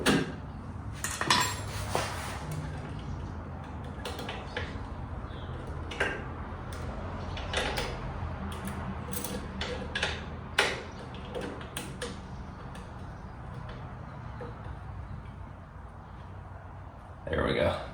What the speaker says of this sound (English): I'm pulling the clip off the flexible brake line